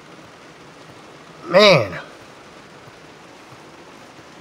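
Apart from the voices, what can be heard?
heavy rain during a storm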